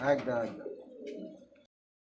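A pair of fancy pigeons, one chocolate and one red, coo in a single close, soft, rolling phrase that fades within about two seconds.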